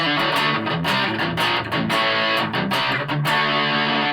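Electric guitar driven through a JHS 3 Series distortion pedal, playing a dense, loud, saturated chord riff with steady rhythmic strums and sustained gritty harmonics, no voices.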